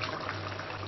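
Soy sauce pours into a pan while making spicy beef sauce, a brief steady liquid trickle over a constant low background hum.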